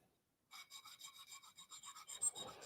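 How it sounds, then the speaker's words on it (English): A 1/4 inch half round diamond hone of about 600 grit strokes a woodturning hook tool in a quick run of short, even rasping passes, close and fairly quiet, with no talk. "1/4 inch half round diamond hone. It's about 600 grit."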